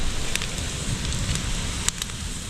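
A fire burning with a steady rushing hiss and a few sharp crackles and pops, close and continuous.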